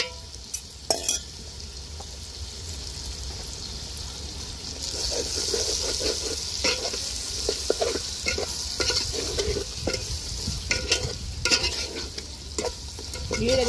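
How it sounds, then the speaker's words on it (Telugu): Fish pieces cook in a pot of tamarind fish curry with a steady sizzle. Repeated stirring scrapes and clacks of a spoon sound close and grow busier partway through. "ఇక చేప ముక్కలు వేస్తున్నానండి."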